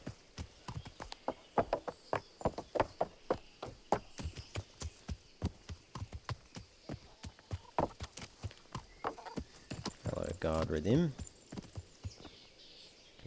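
A horse trots out through a town gate in the video game Kingdom Come: Deliverance, its hooves clip-clopping in a steady, even rhythm while someone speaks briefly over it.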